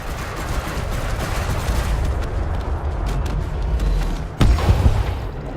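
A heavy, rapid stream of cannon fire from a huge fixed four-barrel cannon in the video game Elite: Dangerous rumbles continuously with deep booms, swelling into a louder burst near the end.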